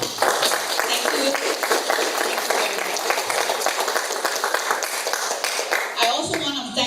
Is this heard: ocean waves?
no